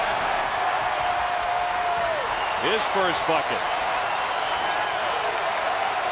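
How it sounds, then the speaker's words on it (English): A big arena crowd roars and applauds after Johnson's slam dunk in a college basketball game between Texas and North Carolina, a loud sustained wall of cheering with sneaker squeaks and a commentator talking over it. "That brings the big crowd to life"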